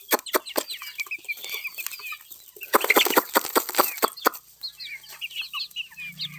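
Young country chicken chicks on a village poultry farm clucking and peeping, with bursts of scratchy scuffling and movement, fairly close and moderately loud, varied and lively throughout with no talk.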